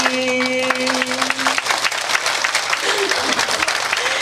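Audience clapping at a nostalgic variety show in a Korean theatre, steady dense applause from a crowd, with a sustained voice or tone over the first part before the clapping continues alone.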